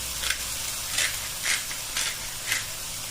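Cod fillet frying in olive oil in a pan, with a steady broadband sizzle and regular soft bursts of stirring or shifting roughly every half second.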